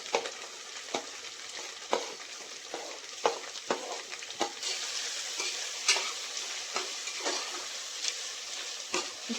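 Medium-sized onions with green chillies sizzle steadily in a pan for biryani, with repeated sharp scrapes and clicks of a spoon stirring them at an uneven rhythm throughout.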